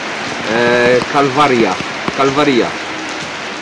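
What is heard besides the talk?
rain falling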